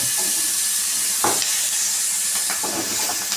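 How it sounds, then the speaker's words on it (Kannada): Onions and curry leaves sizzle in a pan in a steady, close hiss of frying, broken by a few soft clicks and stirring scrapes. "ಈಗ ಈರುಳ್ಳಿ ಸ್ವಲ್ಪ ಕಲರ್ ಚೇಂಜ್ ಆಗೋವರೆಗೂ ಫ್ರೈ ಮಾಡ್ಕೊಳ್ಳೋಣ."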